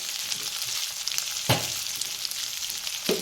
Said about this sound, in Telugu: పచ్చివాసన పోయేంతసేపు దాన్ని ఫ్రై చేయాలి